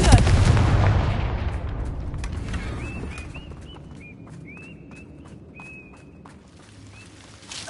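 A Confringo fire blast spell in Hogwarts Legacy opens with a loud, booming burst that fades slowly. Faint clicks and short chirping tones follow in a quieter scene.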